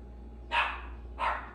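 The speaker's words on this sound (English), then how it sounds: "This dog needs to stop barking at me." A dog gives two sharp barks about half a second apart. The barks are fairly faint and heard alone over a quiet low hum.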